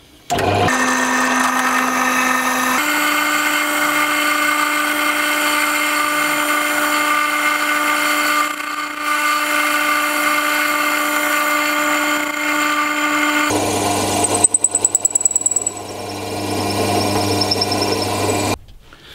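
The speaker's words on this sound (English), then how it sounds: "make sure the drill bit is perfectly straight with your workpiece and drill out the hole" A steady, high-pitched power drill whines continuously for a long stretch while drilling a hole in wood, then shifts to a different tone and cuts out near the end, with no voices.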